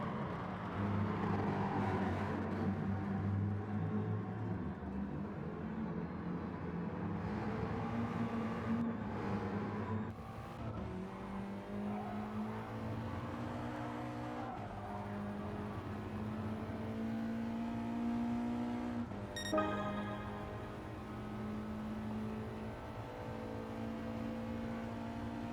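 A Ford Mustang race car in a racing video game league event roars steadily at high revs down a straight, with rising engine pitch through gear changes and other cars whirring nearby, loud and continuous.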